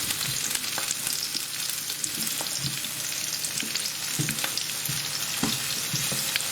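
Onions frying in a pan for crispy chili beef, a continuous loud sizzle broken by scraping, clattering stirs of a utensil against the pan, with no talking.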